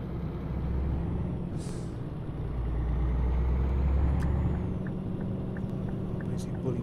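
A Scania R380 truck in Euro Truck Simulator 2, fitted with an engine sound mod, gives off a steady, deep, low diesel drone that swells gently and fades, fairly quiet, with a faint hiss or air-brake burst early on.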